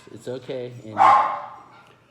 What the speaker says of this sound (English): That's my dog. The mail just showed up.